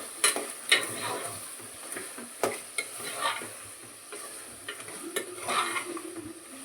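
Spiced goat head curry being stirred in a pan, a spoon scraping and clacking in irregular strokes over a soft steady sizzle, close and moderately loud with no talking.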